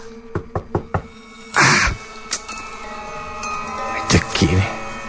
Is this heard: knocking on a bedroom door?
yes